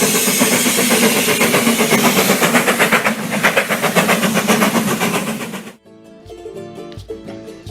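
Loud train sound effect of a rolling train with rhythmic clickety-clack and engine rumble, steady and close, then cutting off abruptly into music.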